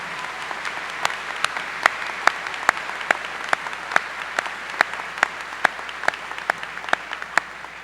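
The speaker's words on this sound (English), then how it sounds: "I would like to give one more round of applause to our senior choir" A graduation audience applauds the senior choir, sparse individual claps standing out sharply at a fairly regular pace over a softer wash of clapping from a large hall.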